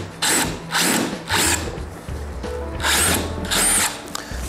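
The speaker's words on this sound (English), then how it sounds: "just start drilling that hole" A power drill whirs in several bursts, drilling a hole on a 2022 Harley-Davidson Road Glide ST to fit lighted hinge covers, spinning up and stopping, close by and loud, with short pauses between each run.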